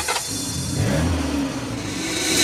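Car engine revs and accelerates as a sound effect inside a Brazilian funk automotive track, a steady mid-pitched engine roar running under the music throughout.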